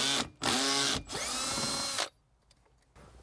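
A power tool spins out 10mm bolts from the dash of a 2018-2021 Lexus NX, two close, loud whirring runs with a short break, then quiet handling noise.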